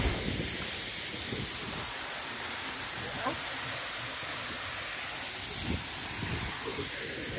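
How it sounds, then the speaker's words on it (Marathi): The two-tiered Sendang Gile waterfall in the Lombok jungle, Indonesia, gushes under high pressure and throws up mist, a constant loud broadband roar and hiss from close by, with faint voices underneath. "पाणी बघा किती फास्ट बाहेर येतं इथून. पाण्याच्या अक्षरशः वाफा बाहेर निघतात, एवढा मोठा प्रेशर आहे याचा"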